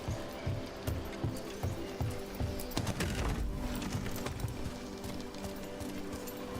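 Birds in the Dragon Age: The Veilguard video game, with soft cooing and scattered calls over a steady ambient game soundscape and low rhythmic thumps, fairly close and continuous throughout.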